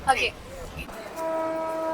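A local commuter train's horn blows a long, steady tone, following a few brief voices and rattling noises at the start.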